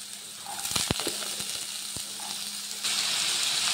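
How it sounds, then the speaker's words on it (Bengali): Potatoes hit hot oil seasoned with panch phoron, a steady close sizzle with a few sharp crackles and pops early on, then the frying hiss swells louder and stays constant. "এবার সব আলুগুলো দিয়ে দেব তেলে।"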